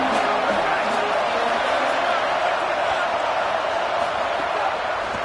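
Stadium crowd at a college football game involving the Longhorns, a dense, steady roar of cheering and shouting that fills the whole stretch with no break.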